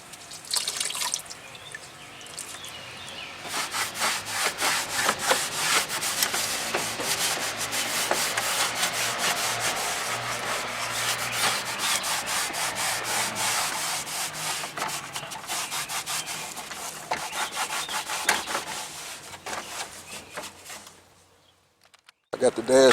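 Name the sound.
wiping down car dash with water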